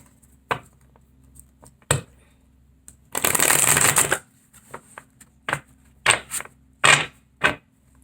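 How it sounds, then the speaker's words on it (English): Tarot card deck being handled and shuffled close up, with quick riffling bursts, one longer shuffle and scattered snaps of cards between quiet gaps. "one more shuffle"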